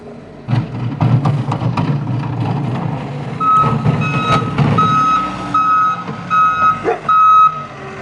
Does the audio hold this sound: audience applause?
no